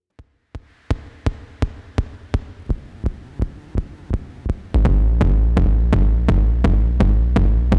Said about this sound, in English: The 2600 is not exactly a sequencer, but there are ways to get rhythms going on it, so I have a little beat here